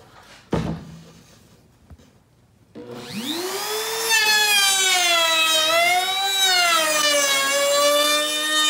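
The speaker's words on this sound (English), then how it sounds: "we'll just throw this through and show you how it runs the groove really quick" Small, light handheld wood router running a groove: a thump and rustle, then the motor spins up into a loud, steady, whining high-pitched drone that wavers slightly as the cut proceeds, close and alone with no talk.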